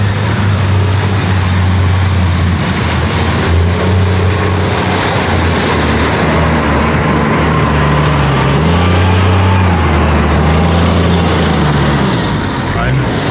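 Loud, steady low engine rumble of a heavy 100,000-pound concrete truck idling while pouring concrete on a large driveway, with engine pitch shifting slightly partway through and faint voices in the background.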